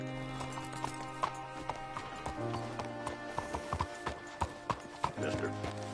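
Horse hooves in Red Dead Redemption 2 clop in a steady, even rhythm at moderate distance, layered over sustained background music tones with no talking.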